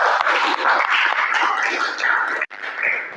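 Audience applause at a closing Indonesian school or community session, a dense continuous patter of clapping from a room of people, steady and close with a brief break near the end.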